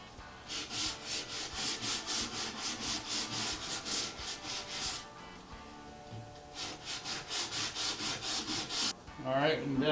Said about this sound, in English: take some sandpaper and rough up that finish to make sure that the glue is going to be able to stick